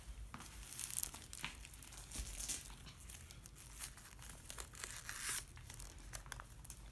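A greeting card being opened, with crisp paper crinkling and tearing in several bursts, loudest near the start and again toward the end, close by and fairly quiet.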